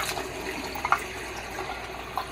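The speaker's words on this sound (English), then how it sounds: "Okay, I use cool water." Cool tap water runs steadily into a sink while a human-hair wavy wig is co-washed without soap, a soft, fairly quiet continuous stream with a few faint splashes and drips.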